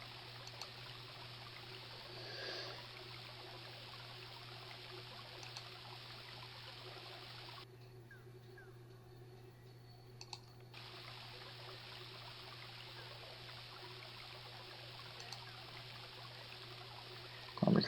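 Flowing river water in the King's Quest: Quest for the Crown game, a faint, steady hiss of running current under a low constant hum, briefly dropping out for a few seconds midway.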